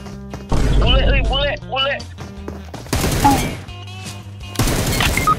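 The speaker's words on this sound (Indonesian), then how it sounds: "Ada yang nembak, guys." Bursts of gunfire in a shooter video game, players using an AWM sniper rifle, crack out in loud clusters between in-game sounds and overlapping talk from the players.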